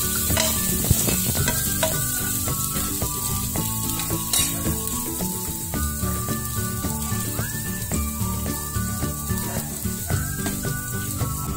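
Beef chunks frying with onion and garlic in a pan for the Bacolod dish cansi, a continuous loud sizzle with stirring clatter and scraping throughout.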